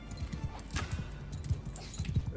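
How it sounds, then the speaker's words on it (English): Many horses gallop in a medieval-style video game battle, a dense, irregular clatter of hooves with an occasional whinny, steady and fairly loud throughout. "So many horses."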